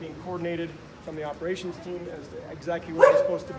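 A pet dog gives a few short, close yips and barks indoors at a wildfire command post, heard beneath someone talking steadily.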